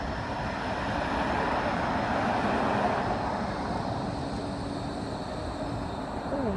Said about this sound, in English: Here now is a tram bound for Fleetwood Ferry.